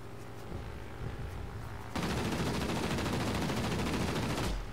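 An enemy plane's guns in World of Warplanes open up with a sustained, loud machine-gun rattle that starts abruptly partway through over a constant engine drone and runs almost to the end.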